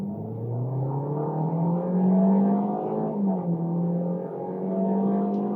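A 2024 sedan with a CVT gearbox pulls away hard from a stalled standing launch, engine holding a steady loud drone with slight pitch shifts as it gains speed, close and alone.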